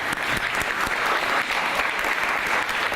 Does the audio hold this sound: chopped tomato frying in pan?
no